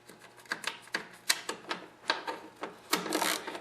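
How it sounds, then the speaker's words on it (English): Metallic clicks and ratcheting taps ring out close up as a lock nut is threaded back onto a bolt on a Murray Noma snowblower, in irregular sharp strokes with a denser burst near the end. "I'll reinstall the lock nut."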